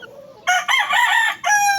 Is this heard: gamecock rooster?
yes